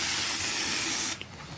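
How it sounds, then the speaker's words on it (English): CRC aerosol dispersant sprays from a can into a tablet in one steady close hiss lasting about a second, then cuts off. "I'm just going to spray a bit of this CRC in and act as a dispersant."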